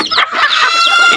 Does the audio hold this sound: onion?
no